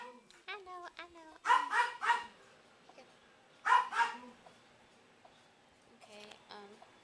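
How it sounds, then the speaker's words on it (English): Puppies bark and yip in short bursts, some sharp and clustered, others spaced apart, close and fairly loud, with brief whimpers and voices in between. "Okay, Jill's puppy is right here, and she has the blue bow on her foot"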